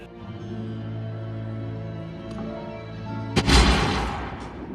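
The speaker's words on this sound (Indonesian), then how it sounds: "Di sini John yang terjatuh karena ia terkena tembakan yang fatal." A single sharp gunshot from a film duel cracks near the end, following a sustained musical drone, loud and close.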